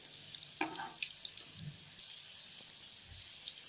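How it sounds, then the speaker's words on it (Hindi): Colocasia leaf pakode (patra) shallow-frying in oil, a soft steady sizzle scattered with quiet pops and crackles, close but gentle, with no voices. "ये हम इसको सेलो फ्राई करते हैं।"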